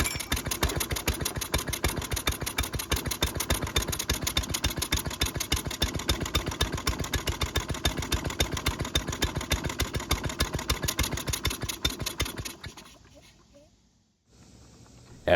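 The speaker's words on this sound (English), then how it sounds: "the choke was cycling because of how choppy the engine was" A Toro lawn mower engine runs choppy with its choke bypassed, a loud, rough pulsing chug that holds for about twelve seconds before sputtering down and cutting out into near silence.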